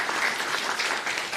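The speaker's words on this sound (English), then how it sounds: "Let's have a round of applause." A startup pitch audience applauds after a founder's presentation: steady, dense clapping from a room full of people, moderately loud and unbroken across the short stretch.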